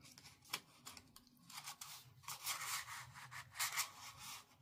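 Scissors snip through folded paper in quick, close, crunchy cuts, a run of rasping strokes with brief pauses, no talking.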